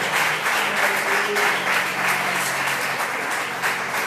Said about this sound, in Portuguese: bater palmas para o Senhor